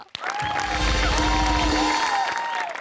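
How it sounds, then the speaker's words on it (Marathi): A studio audience at a Marathi comedy show breaks into applause, loud and sustained clapping from a crowd with cheering and music swelling along with it. "त्यांचं टाळ्यांच्या गजरात स्वागत करूया"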